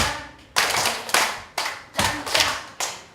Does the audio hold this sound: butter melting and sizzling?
no